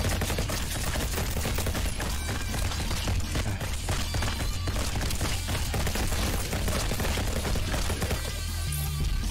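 Rapid, continuous video-game gunfire as a player aims for headshots, dense overlapping shots layered over a constant loud game soundtrack with no pauses.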